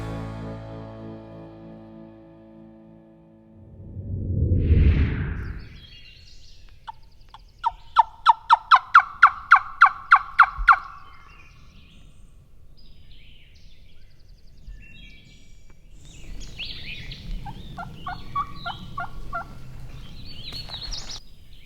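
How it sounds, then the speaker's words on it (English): Two wild turkeys gobble loudly in the open, rapid rattling calls repeating in bursts, one close and clear, another answering later amid a faint low rumble. "We had 2 different turkeys gobbling their heads off."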